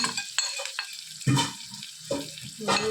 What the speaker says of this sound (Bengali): তারপরে আমি একটু নেড়ে চেড়ে ভেজে দিলাম।